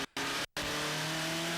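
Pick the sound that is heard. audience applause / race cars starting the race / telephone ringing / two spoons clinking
race cars starting the race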